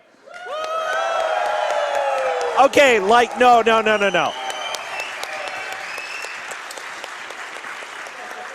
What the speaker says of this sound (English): I want you to jump out of your seats, shouting, clapping, like Mike Tyson just got down